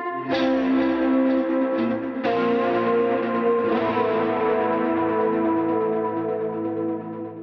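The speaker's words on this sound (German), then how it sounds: "dass du einen Ton spielst und es kommt vielleicht eine Reihe spannender Echos noch hinterher" A single electric guitar note rings out through an effects unit, followed by a series of repeating echoes that layer and decay slowly, loud and clear with no voices.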